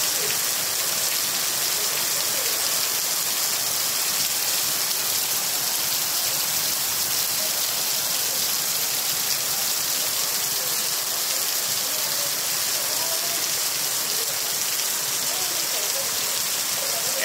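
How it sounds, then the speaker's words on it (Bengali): Heavy rain falls in a dense, unbroken roar of drops on surfaces, loud and steady throughout with no pauses. "দেখার মতো বৃষ্টি, দেখার মতো।"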